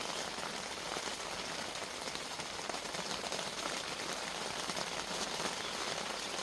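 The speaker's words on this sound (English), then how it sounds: "it started raining." Rain pattering on a tent during a thunderstorm at a wild campsite, a dense, even hiss of drops that continues without a break and stays close to the listener, with no voices or thunder.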